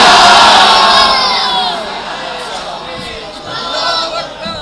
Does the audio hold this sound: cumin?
no